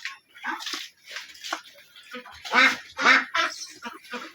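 Khaki Campbell ducks kept on a small farm quack repeatedly and close by in short, uneven bursts, with a brief human voice mixed in.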